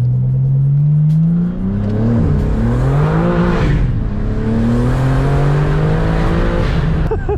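An 800 hp BMW G80 M3 in two-wheel drive accelerates hard, loud and close, its engine note climbing through several rising sweeps as it shifts up through the gears.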